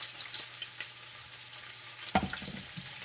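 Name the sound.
olive oil sizzling in a frying pan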